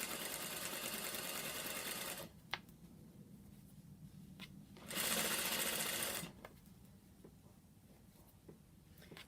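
A sewing machine stitches cotton fabric around welt cord in steady, close, continuous bursts, stopping twice and restarting after the pauses, with no voices.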